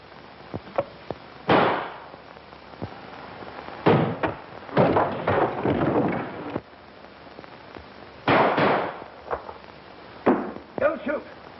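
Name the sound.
gunshots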